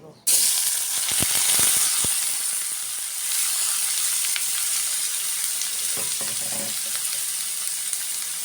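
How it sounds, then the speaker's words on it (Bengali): Onion, dried fish and chilli tip into a wok of hot oil and burst into a loud, steady sizzle that holds for several seconds, with a few clanks of a utensil partway through. "কড়ার মধ্যে তেল দিয়ে দিলাম এখন পেঁয়াজ শুটকি মরিচ একসাথে দিয়ে"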